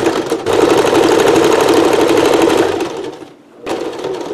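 A sewing machine sews lace onto an apron made from a Dickies workshirt, humming loudly and steadily at close range, breaking off briefly before starting up again.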